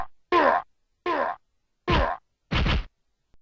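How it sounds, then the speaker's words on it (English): Four punchy synthetic punch impact sounds from the unreleased SNES game Prime, evenly spaced with silence between each hit. "Hey, my punches make sound effects."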